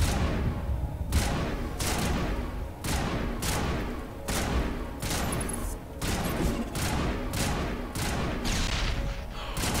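Rapid bursts of gunfire from a Mass Effect firefight crack out in repeated volleys, loud and close, with short gaps between clusters of shots over a dense background rumble.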